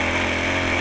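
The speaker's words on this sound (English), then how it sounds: "Fishermen are drilling holes into the ice looking for a big catch." A power ice auger drilling holes into 18-inch-thick frozen lake ice, a loud steady close-up motor whine and rumble that holds constant throughout.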